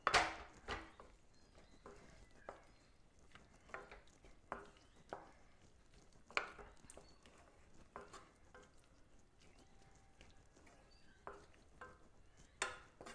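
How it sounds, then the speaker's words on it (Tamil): Fried cauliflower being stirred into a simmering gravy in a pan, with a run of spoon scrapes and clinks against the metal at an uneven rhythm over a soft bubbling sizzle, fairly faint and with no talking. "சேர்த்து நல்லா கலந்து விட்டுக்கோங்க."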